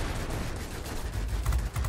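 Rockets fired from warplanes in the video game World of Warplanes, with a Corsair F4U-1 among the aircraft: a loud, dense barrage of rapid launches and blasts over a heavy, rumbling low roar, near and continuous.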